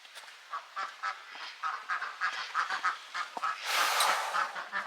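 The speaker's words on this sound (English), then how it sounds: "There go the ducks." Ducks quacking in a run of short, repeated nasal calls, fairly close, with a denser burst of noise near the end, heard during work on jacking up the rear axle of a Chevy Express van.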